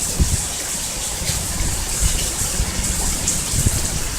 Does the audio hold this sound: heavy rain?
yes